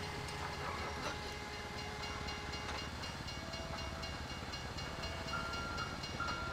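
Train in Grand Theft Auto V rolling along the track, a faint, steady rumble with rhythmic clatter and light hiss and tonal whine, continuous throughout without talk.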